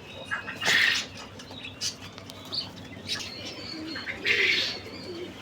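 Domestic pigeons, kept and dosed with medicine for bent legs, coo in soft rolling bursts nearby, with a few brief chirps and faint background rustling between calls.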